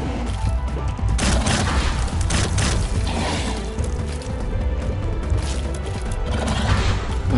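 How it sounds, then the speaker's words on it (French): Dense, continuous rumbling blasts and crashing from an explosion in The Binding of Isaac: Wrath of the Lamb, loud and sustained with no pauses. "l'explosion qui a touché les deux"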